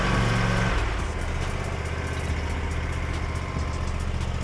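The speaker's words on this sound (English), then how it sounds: "Go ahead and start the engine." Lawn mower engine with a Hydro-Gear 2800, 3100 or 3200 hydrostatic transmission starting up and settling into a steady idle, a loud, close, even rumble with no talk.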